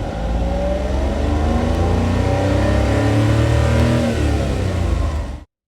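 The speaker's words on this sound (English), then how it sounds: "The next thing I want to talk about is the engine note on this car." A Honda Beat's small naturally aspirated engine revs up, its note climbing steadily in pitch and holding loud and close before cutting off abruptly.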